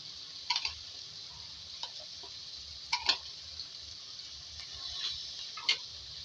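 Spices frying in a pan with chicken and ground coriander and red chilli, a quiet low sizzle broken by several sharp clinks and scrapes of a spoon stirring against the metal.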